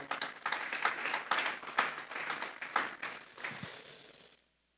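A church congregation claps for the Lord in a quick burst of overlapping hand claps that rises, holds steady, then thins and stops abruptly near the end.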